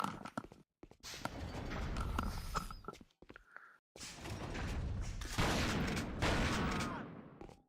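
Gunfire in The Thing remastered video game comes in loud bursts of rapid shots broken by short silences, close and harsh, with a few mechanical clicks in between.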